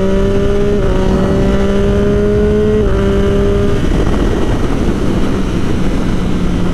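Triumph Daytona 675R sport motorcycle riding in traffic, a steady loud engine drone with held tones that shift pitch as revs change, wind and road noise beneath, no voices.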